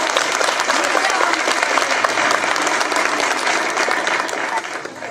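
Sustained applause from a crowd at a show jumping competition at a riding club, steady dense clapping that carries through and tapers slightly at the end.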